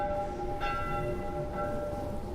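A faint alarm bell rings steadily in The Last of Us, a sustained metallic tone with a couple of fresh strikes, heard low and somewhat distant under game ambience.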